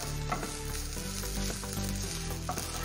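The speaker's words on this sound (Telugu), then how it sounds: "పచ్చి కొబ్బరిని నెయ్యిలో ఫ్రై చేసుకోవాలి" Fresh grated coconut fries in ghee for rava laddu, a dense, continuous sizzle close by with soft stirring scrapes running through it, no voices.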